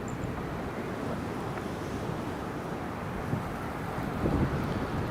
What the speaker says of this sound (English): It's still very blustery.